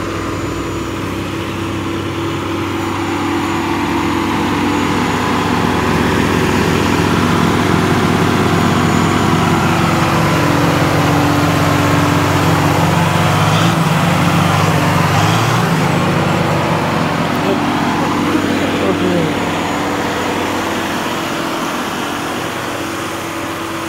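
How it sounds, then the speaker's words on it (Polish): Two tractors compacting a maize silage pile rumble continuously with low, heavy engine drone that swells slightly as they move nearby, at steady volume throughout with no talking. "No dzisiaj wyjątkowo dwa ciągniki są na ubijaniu"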